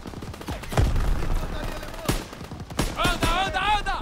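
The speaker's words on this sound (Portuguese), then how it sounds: "metralhadoras estão nos massacrando!" Machine gun fire in a Call of Duty WWII battle, loud bursts mixed with explosions and game chaos, with voices shouting over the shooting.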